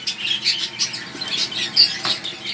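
Pet bird chicks in a breeding cage squawking in a rapid, close, uneven stream of high rasping calls, with someone talking faintly in the background.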